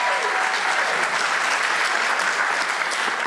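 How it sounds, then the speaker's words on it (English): Dense audience applause for the series Reasonable Doubt rings out at a live event, a brief, steady burst of many hands clapping at once, close and loud. "Give a round of applause for Reasonable Doubt."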